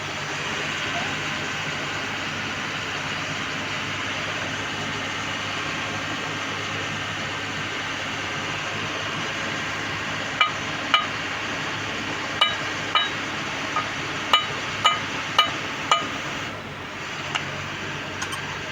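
Metal hammer strikes driving an oil seal onto the kingpin spindle of an Ashok Leyland BS4 truck, about eight sharp knocks in the second half of the clip over a steady workshop background hum.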